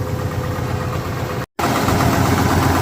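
A combine harvester engine runs steadily and loud with a rough mechanical chatter from a hung-on PTO drive, a continuous drone that cuts out for an instant midway before resuming.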